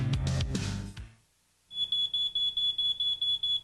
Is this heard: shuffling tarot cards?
no